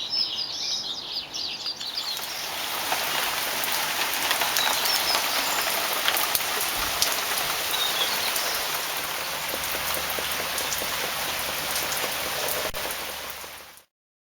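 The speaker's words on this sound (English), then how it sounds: "It's hailing." Heavy hail pelting down outdoors during a storm, a dense, steady roar of hard impacts that stays loud and continuous for about thirteen seconds before cutting off abruptly, with faint chirps at the start.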